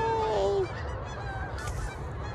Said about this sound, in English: Did you hear the sound of duck?